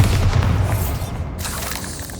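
The Bombarda blasting spell goes off in Hogwarts Legacy, a loud, deep booming explosion up front that rumbles and fades into a softer, crackling tail of debris.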